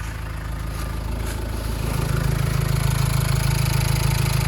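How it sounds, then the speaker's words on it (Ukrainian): A 2005 Renault Trafic 1.9 van's engine idles steadily up close, its low rumble growing slightly louder and fuller partway through, then holding an even rhythm. "Чуєте, як моторчик працює"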